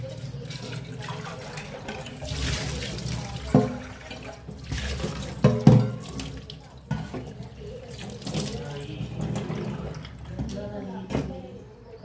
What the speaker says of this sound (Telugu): నీళ్ళు మొత్తం పోనీయాలి